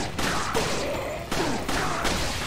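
Several sharp gunshots crack in quick bursts with echoing tails during a Resident Evil 4 Randomizer firefight, with no voices.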